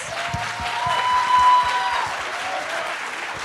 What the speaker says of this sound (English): giving these ladies another round of applause